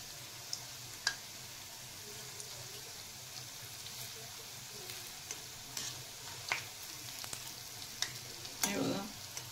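Medu vada fry in oil over a low flame, a soft continuous bubbling sizzle with scattered pops and one brief louder crackle near the end.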